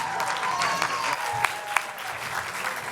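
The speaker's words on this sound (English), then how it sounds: "A big round of applause for comedian and actor Tommy Bechtold." An audience at an indie film awards event applauds comedian and actor Tommy Bechtold with a burst of dense clapping that stays loud and steady, with a few sharper claps standing out.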